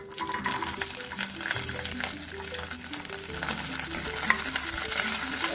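Mustard seeds, curry leaves and garlic frying in a little oil as a tempering for sambar: a continuous close sizzle with crackling pops and occasional stirring scrapes throughout.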